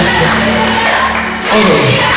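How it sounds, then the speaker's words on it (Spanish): A crowd in a shopping mall in San Bernardo cheers and claps for a live performer, loud and dense throughout, with a few shouts rising above the steady roar. "un aplauso para nuestro amigo"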